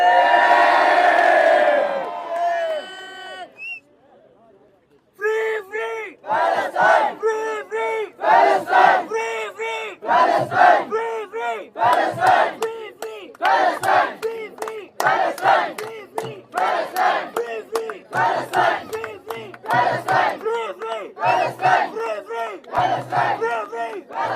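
A large crowd at a rally and sit-in at D Chowk chants slogans in loud, rhythmic bursts. One voice starts the chant, then many voices repeat it in a steady, pulsing cadence.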